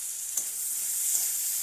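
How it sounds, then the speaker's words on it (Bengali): Onion and tomato frying in a pan for a home cooked dish, a steady close hiss with a couple of faint stirring scrapes, no voices. "একদম লাল করে ভেজে নিচ্ছি।"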